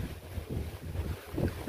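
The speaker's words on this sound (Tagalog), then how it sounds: "Lakas na pala yung hangin dito sa Achila." Strong seaside wind buffets a microphone in gusty, low rumbling surges, with a faint wash of ocean beneath and no clear talking.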